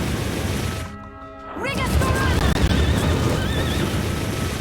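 Horse whinnying in the video game Bloodstained: a rising, wavering neigh over loud game noise and music, with a sharp crash-like burst just before it.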